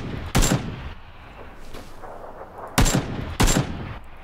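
Loud, sharp gunshots in PlayerUnknown's Battlegrounds: a single blast, a pause with quiet background noise, then two more blasts in quick succession.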